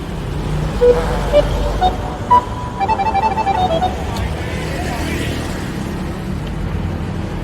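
Steady road traffic on a busy street in Pattaya, Thailand, with cars rumbling past at close range and a few short horn toots near the start, set against a constant background roar.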